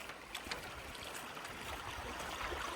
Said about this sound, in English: you got this little feeder creek that runs all the way through the back parcel here